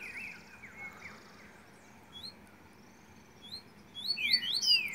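A pet songbird sings in short bright chirps and tweets, scattered at first and then a busier burst of calls near the end, fairly faint over a low background hiss.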